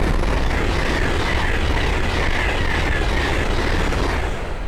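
A Class 801 express passes at speed on the East Coast Main Line at Great Wymondley, a dense, loud roar of rushing air and wheel noise sustained throughout.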